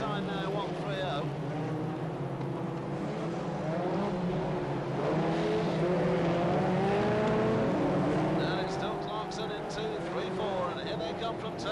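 Brisca F2 stock cars racing at Coventry in a 1994 final, engines droning and whining continuously as they circle the track, heard under steady commentary.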